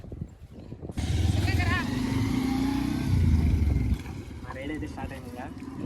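A motorcycle engine drones steadily as the bike ride starts out through the Nallamala forest toward Srisailam, rising and falling in pitch under a voice talking over the top.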